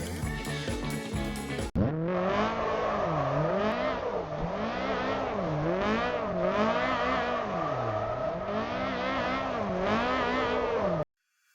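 A simulated car engine in Assetto Corsa, driven on a mountain pass with a MOZA R5 wheel, revs up and drops again and again through shifts and corners. It sounds loud and close after a short burst of other noise at the start, with no talking.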